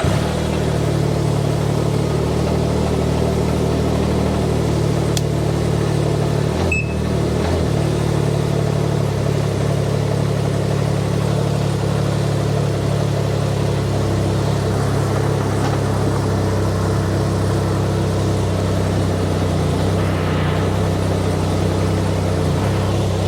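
A Can-Am Ryker 900 three-wheeled motorcycle engine idles steadily nearby with a low, even drone, holding at a mild, fairly quiet level throughout with a brief click partway through.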